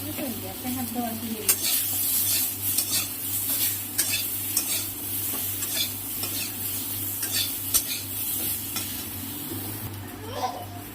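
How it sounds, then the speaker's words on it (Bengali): Potatoes frying in a pan with salt and turmeric, a continuous close sizzle broken by repeated scraping stirs and light clinks of a utensil against the pan, with a brief voice at the start. "সামান্য পরিমাণে লবণ দিয়ে দিলাম সামান্য পরিমাণ হলুদ দিলাম নিয়ে এবার ভেজে নেব"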